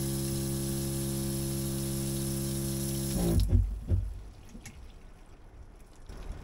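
Inside a camper, a water pump in a partly soundproofed box runs with a steady, buzzing whine full of harmonics, then cuts off with a few clunks, leaving a faint water trickle and quiet room noise.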